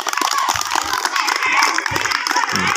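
Loud, dense applause and cheering from an audience for students after a silambam martial arts demonstration, continuous and close for the whole stretch, with crowd voices mixed into the clapping.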